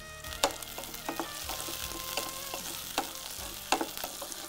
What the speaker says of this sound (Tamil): மொச்சை நல்லா வறுபடணும் இந்த வெங்காயத்தோடு.